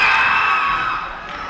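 A basketball crowd at a girls' high school game cheers loudly, a dense burst of shouts and whoops that fades slightly over a second and a half.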